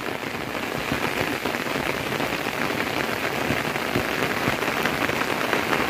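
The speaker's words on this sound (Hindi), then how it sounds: "2 मिनट में इतनी खतरनाक बारिश हो गई है ना" Heavy monsoon rain pours steadily near farm fields, a dense, continuous hiss of drops drumming on surfaces nearby, with no voices.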